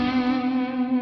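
Crunchy electric guitar lead played through a Headrush amp modeler, a single sustained distorted note ringing with rich overtones, loud and close.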